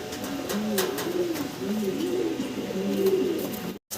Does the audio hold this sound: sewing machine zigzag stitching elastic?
no